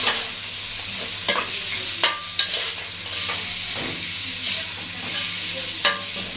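Peppers, tomatoes, chicken liver and gizzards sauté together in a pan, a constant close sizzle broken by several sharp scraping stirs and clinks at irregular intervals.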